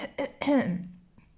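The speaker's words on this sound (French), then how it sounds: "Je commence à tousser." A woman coughs and clears her throat in a few short, close bursts, with a brief voiced sound at the end as she starts getting sick while indoors testing craft supplies.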